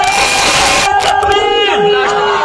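A large crowd at a religious gathering roars a Takbir slogan response in unison, loud and echoing at first, then breaking into scattered shouts and voices.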